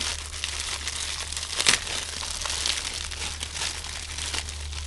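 A plastic-wrapped package is opened by hand, with continuous close crinkling and rustling of the wrap and one sharper crackle partway through.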